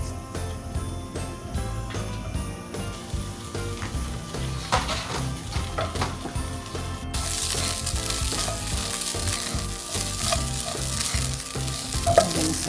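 Food sizzles steadily in a pan over medium heat, a dense crackling fry with scattered clinks and stirring scrapes, growing brighter and hissier partway through.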